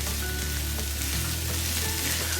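Chicken and vegetables with capsicum frying for Chinese fried rice, a dense, continuous close sizzle at steady loudness with a faint stir.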